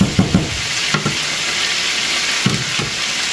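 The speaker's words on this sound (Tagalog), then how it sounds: "So, stir fry din natin ang potatoes." Potatoes frying in hot oil in a pan, a loud steady sizzle with intermittent stirring knocks and scrapes, close up and without talk.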